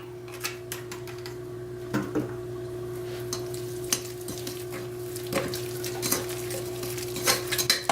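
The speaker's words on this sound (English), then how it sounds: "And mix it all up." Gluten-free sugar cookie batter with egg and vanilla being mixed in a bowl, heard as irregular utensil taps and scrapes against the bowl over a steady hum.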